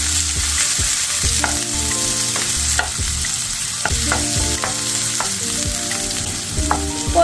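Onions with a sprinkle of salt and sugar sizzle in a hot pan, a steady loud frying hiss broken by scraping, clattering stirring strokes throughout.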